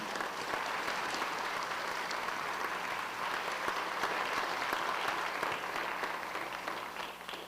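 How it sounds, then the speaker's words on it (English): Sustained audience applause fills a school district education awards ceremony, a dense, steady wash of clapping from a large crowd that holds evenly for several seconds before easing slightly at the end, with no speech over it. "let's give her a round of applause"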